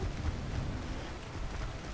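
Steady broadband rain pours in a video game, a dense continuous hiss with low rumbling underneath, even and moderately loud throughout with no voices.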